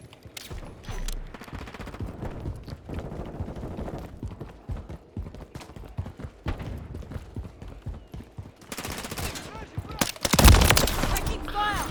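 Rapid Call of Duty Modern Warfare 3 gunfire keeps up a steady clatter of shots for about twelve seconds, with a louder, denser burst near the end. A voice is heard faintly under the firing.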